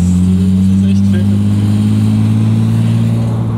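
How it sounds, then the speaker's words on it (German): An Audi RS4 engine rumbles loudly and close, a deep steady drone with strong low harmonics that swell slightly as it revs, continuous with no break. "Ja, das ist der schönste Motorsound, würde ich fast sagen."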